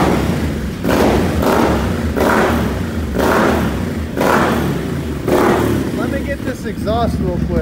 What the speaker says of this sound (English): Just put it in neutral and see how it revs.